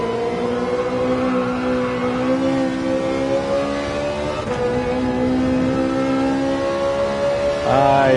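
Race car in Gran Turismo 7 pulling out of a corner, engine note climbing steadily and loud with a brief dip partway, then a sharp rev rise at the end.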